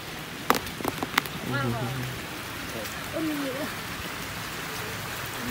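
Steady rain patters in the background while brief clicks and a few short voiced sounds, including a birdlike call, rise above it.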